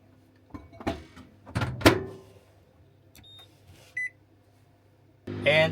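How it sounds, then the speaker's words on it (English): A microwave oven heating food: a door opens and shuts with thunks, keypad beeps sound, then the oven starts up with a steady hum, all close and with no talking. "just going to microwave it first."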